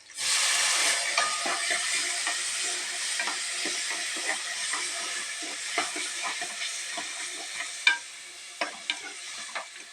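Shallots, curry leaves and tomatoes frying in hot oil in a pan, a steady loud sizzle broken by repeated scraping stirs of a spoon, with no voices.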